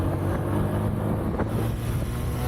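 A Suzuki GSX125 motorcycle rides onto a highway, giving a steady, loud engine drone mixed with heavy wind rush throughout, with no pauses.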